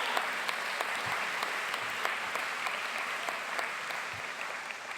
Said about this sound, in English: Can we have a round of applause for the faculty and the staff?